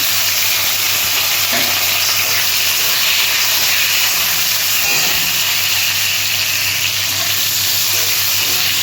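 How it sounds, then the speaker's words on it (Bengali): Cut mango pieces frying in a mustard seed and dry chilli tempering in oil make a loud, continuous close-up sizzle and hiss, with a couple of faint stirring knocks and no speech. "আমগুলো একটু আমি ভাজা ভাজা করে নেব।"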